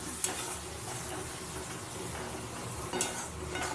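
Spice masala being stir-fried in a pan gives a dense, continuous sizzle with scraping stirs and a couple of sharper spatula clinks, close and fairly loud, no voices.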